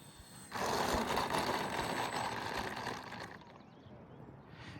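An FMS Ranger 1220mm V2 RC airplane with flaps deployed flies past, its electric motor and propeller giving a steady buzzing whine that holds for a few seconds and then fades.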